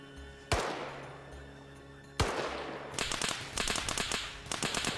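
Gunfire in Arma 3: two sharp, loud single shots a couple of seconds apart, then a rapid, rattling burst of shots close by.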